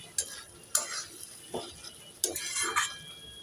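Kochur loti, taro stolons cooked with mustard and poppy seed and no added water, being stirred in a pan after steaming under a lid, with a few scraping spatula strokes and soft clinks over a low sizzle, no talk.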